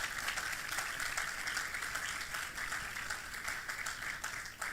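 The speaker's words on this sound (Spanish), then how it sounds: "¿Alguien puede darle un aplauso al Señor?" Congregation applauding at a church service, a dense, steady wash of many hands clapping throughout, moderately distant and continuous without a break.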